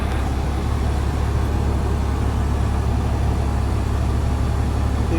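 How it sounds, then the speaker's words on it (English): A vehicle engine settles back to a steady idle, a continuous low rumble holding level throughout with no speech, heard from close by. "Get it to idle back down again."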